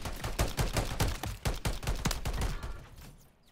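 In Call of Duty, rapid, loud automatic gunfire rattles in quick bursts of sharp shots, then tapers off near the end, with no talking over it.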